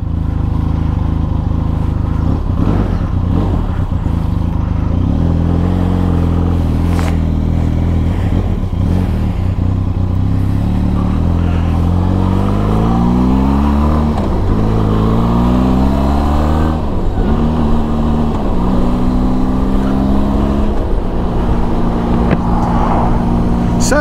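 Benelli TRK 502 X adventure motorcycle engine while riding on a road, a loud continuous drone that rises and falls in pitch through repeated revving and gear changes, close and steady throughout.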